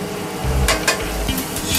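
Eggplant and meat fry in hot oil in a wok, a loud continuous sizzle broken by a few sharp scraping stirs, with no talking.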